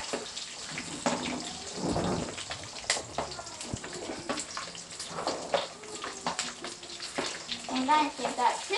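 Onions hit a hot pan for a Tamil fish curry (meen kulambu) and sizzle and crackle steadily throughout, with a bright, spattering texture close by.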